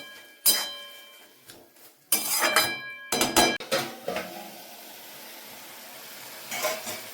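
A metal lid clanks onto a pan of snails cooking in oil, with several sharp, ringing clatters of metal on metal in quick clusters, then a softer clink later over a faint sizzle.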